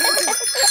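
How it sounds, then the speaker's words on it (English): Cartoon bicycle bell ringing with a bright, repeated chiming tone, several quick rings in succession, clear and close with no talk over it. "Ringing your bell lets others know you are there."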